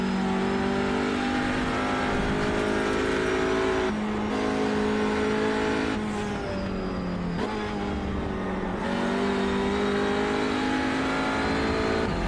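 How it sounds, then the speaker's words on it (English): TCR touring race car engine on a circuit, loud and close, revving high through repeated gear changes and throttle lifts, with the pitch dropping and climbing again as it works through the corners. "Nice to hear the engine going down."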